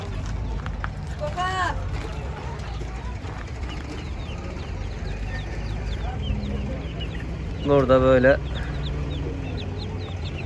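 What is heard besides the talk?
chicks cheeping at a poultry market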